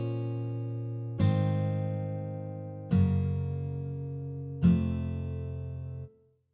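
Software guitar from a free VST plugin playing three sustained strummed chords, each a fresh bright attack that slowly decays, evenly spaced and clean, then cut off abruptly.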